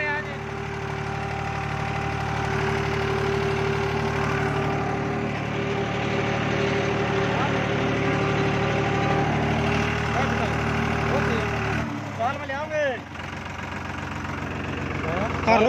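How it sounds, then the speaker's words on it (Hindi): Tractor engine from a UP-registered Mahindra running steadily in first gear under load, a continuous low throbbing drone that holds through most of the stretch with a brief dip near the end; people talk over it. "ट्रैक्टर पहले गियर में चल रहा था"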